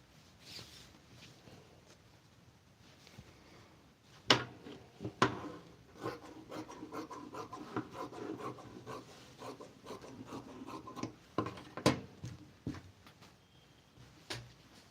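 Scissors cutting the border off a ration saree fabric for a dress, giving quiet rasping snips and rubbing cloth sounds close by, with a few sharper clicks, no speech.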